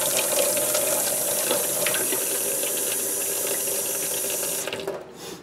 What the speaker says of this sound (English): So what you want is super hot water.